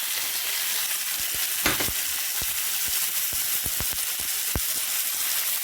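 Mushrooms fry in a hot pan with a steady, close sizzle, broken by scattered crackles and a few louder pops and stirring scrapes. No voices are heard.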